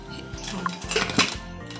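Metal clanks and scrapes nearby as a lid is set and shifted onto a pressure cooker, a few sharp clinks in quick succession.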